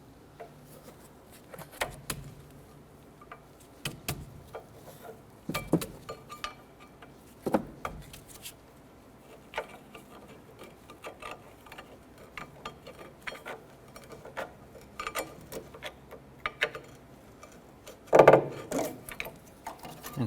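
Brake pads on a 2006-2013 Chevy Impala rear brake being slid out of the caliper slide brackets and shims, giving scattered light metallic clinks and scrapes with a sharper clunk near the end, no talking.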